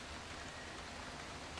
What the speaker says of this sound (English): But I'm really enjoying the rain.